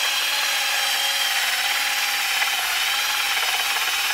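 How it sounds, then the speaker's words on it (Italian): An electric drill fitted with a brush spins against an Audi wheel hub surface, giving a steady, loud, continuous whirring scrub that holds an even pitch throughout, with no talking. "mi sono armato di un trapano elettrico, una spazzola"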